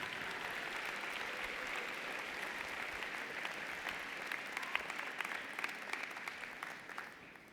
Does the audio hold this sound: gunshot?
no